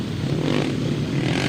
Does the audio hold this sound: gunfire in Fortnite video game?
no